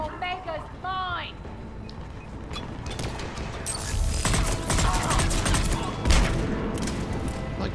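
Assault rifle fire in Mass Effect 3 rattles out in dense overlapping bursts after a short stretch of synthetic chirps, loud and continuous through the second half with mechanical clatter.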